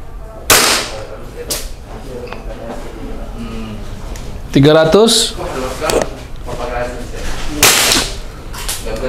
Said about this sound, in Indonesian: Ini sudah siap untuk nembak. Kita lihat FPS-nya. Kita pakai semi dulu ya teman-teman.